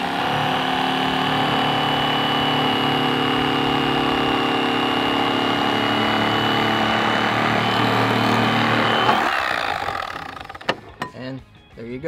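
An electric fillet knife cuts crappie fish with a loud, steady motor buzz that runs continuously for most of the time, then stops abruptly, leaving scattered handling clatter and brief bits of talk.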